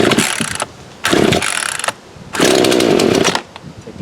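A Poulan Pro PT2 chainsaw, rebuilt from a box of parts, runs on choke in loud close-up bursts of raspy two-stroke engine noise separated by brief drops to idle.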